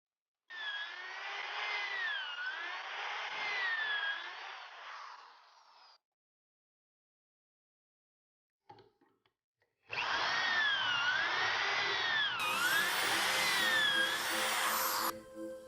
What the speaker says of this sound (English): Now that I have the sides drilled to 3/4 of an inch